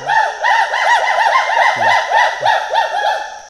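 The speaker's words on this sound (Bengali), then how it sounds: "উল্লুকগুলো এক জায়গায় স্থির না, ডাকাডাকি করছে আর এক জায়গা থেকে অন্য জায়গায় চলে যাচ্ছে।" Hoolock gibbons call in a Bangladesh forest: a rapid, continuous run of loud, rising-and-falling whooping hoots that overlap one another, with no pauses.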